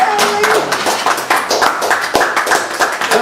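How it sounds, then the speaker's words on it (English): A studio audience at a quiz show applauds a gold-medal winner, a dense, steady wash of clapping that stays loud throughout with voices mixed in. "Let's give Michael McPartland a huge round of applause."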